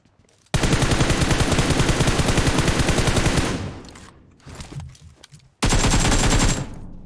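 Loud, dense automatic gunfire from a PUBG Mobile match, a sustained burst of rapid shots for about three seconds, then scattered shorter volleys and a final heavy burst near the end.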